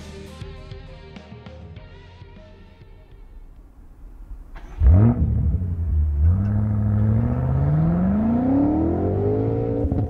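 A 2018 BMW M5 surges hard from low revs, its engine note swelling loud and rising steadily in pitch as the car accelerates through the gear, after a quieter cabin stretch with faint tonal sounds.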